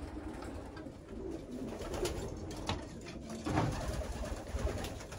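Pigeons cooing steadily inside a breeding loft, a dense chorus of overlapping low coos with soft rustling, moderately loud and continuous, with no talking.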